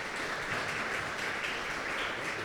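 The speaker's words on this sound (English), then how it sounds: "Round of applause." Steady, even audience applause at a manufacturing leadership panel event in Indiana, a dense continuous wash of many hands clapping from a crowd at moderate distance.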